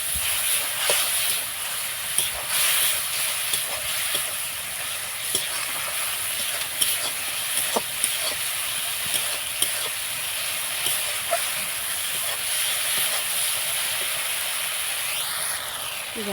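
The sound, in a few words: spices being fried (sautéed) in a pan, sizzling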